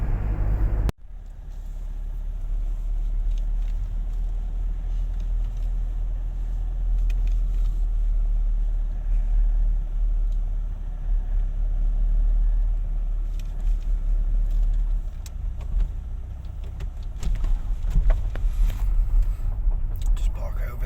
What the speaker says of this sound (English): The wife's driving, she's a little bit nervous about driving with the wind